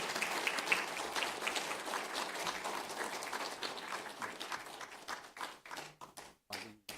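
A congregation at a missionary retirement thanksgiving service keeps up warm, dense applause. It breaks into scattered individual claps near the end.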